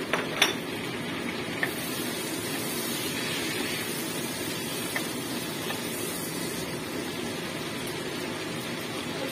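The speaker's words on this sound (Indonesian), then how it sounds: "kita mulai goreng cabe sama bawang putih, bawang merah" Chili, garlic and shallots fry in oil with a steady, close crackling sizzle, joined by a few sharp clinks of a utensil against the pan.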